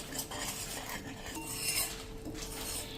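Salt and roasted cumin powder are mixed in with a spoon, making faint, continuous scraping and clinking against a bowl over a low rumbling background.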